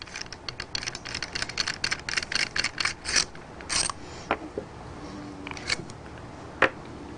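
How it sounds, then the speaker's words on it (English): An Autococker paintball marker is taken apart, its cocking rod being removed with a run of close, sharp metallic clicks and ratcheting ticks that thin out into a few isolated taps. "now we're going to remove the cocking rod"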